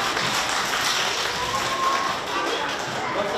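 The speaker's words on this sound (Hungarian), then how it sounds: "egy nagy tapsot magatoknak" Kindergarten children at a magician's show in a preschool clap loudly together, a dense continuous patter of small hands with some tapping and thumps throughout.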